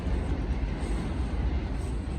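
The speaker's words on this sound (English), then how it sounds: "There you hear the train again, all day." A train passes nearby in a residential neighborhood as a loud, steady rumble that fills the whole moment without a break.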